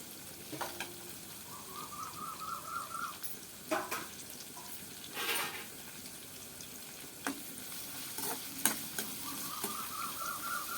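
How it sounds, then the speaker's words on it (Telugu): Onions fry in a pan for a chicken gravy, giving a soft, steady sizzle broken by a few sharp utensil clinks. The sound is quiet and close, with no talking. "ఉల్లిపాయలు అయితే ఇలా వేగుతున్నాయి అనమాట"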